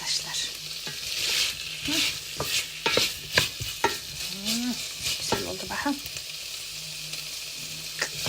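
Tomato paste sautés in a hot pan, a close, continuous sizzle with frequent spoon stirs and scrapes and a faint background hum.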